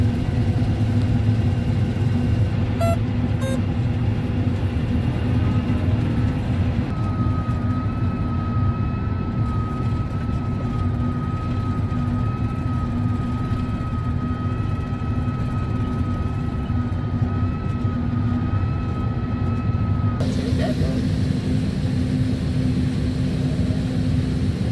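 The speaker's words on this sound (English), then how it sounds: "That was my ride in the combine" A large combine harvester's engine drones steadily and loudly throughout a ride, a continuous mechanical rumble with a sustained whine through the middle that drops away near the end.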